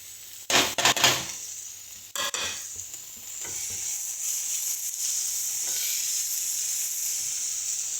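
Onions and spices frying in a pan, a few clattering stirs up front, then a steady close hiss of sizzling oil that holds evenly to the end.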